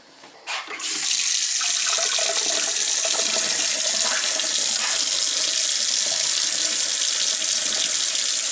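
Steady rushing water pours continuously after a brief start, a loud broadband gush as air pressure forces water out of copper pipes beneath a house being winterized.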